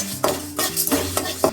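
Coriander seeds, black pepper and asafoetida dry-roast in a pan, heard as a few sharp scraping, stirring strokes of a utensil against metal in quick succession, close up.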